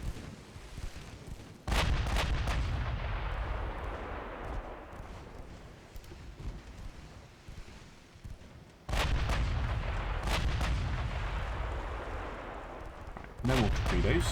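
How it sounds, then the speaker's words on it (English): Warship secondary guns fire in a 1930s British naval strategy game, producing three loud, heavy booming volleys, each followed by a long rolling rumble, with some talking faintly present. "Let's see if we can get the secondary guns on the go again."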